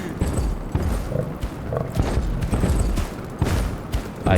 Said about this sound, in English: I hear some stomping.